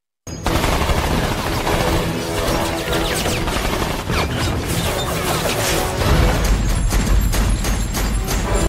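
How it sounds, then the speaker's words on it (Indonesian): Gunfire from the action film Punisher War Zone, shots erupting at a house: rapid, dense bursts of loud cracks and impacts that continue for about eight seconds, forming a chaotic volley. "Di luar rumah, dua polisi sedang mengawasi ketika tiba-tiba terdengar suara tembakan."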